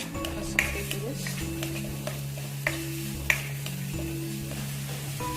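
Three finely chopped medium onions sautéing in a pan for matar paneer, a steady close sizzle with a low hum beneath and occasional sharp taps and scrapes of a spoon, no voices present.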